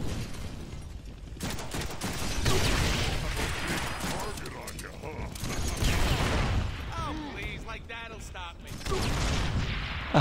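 Deadpool video game combat with gunshots and grenade blasts, rumbling explosions and clusters of shots rising and falling over ten seconds amid busy battle noise, close and fairly loud, with voices mixed in.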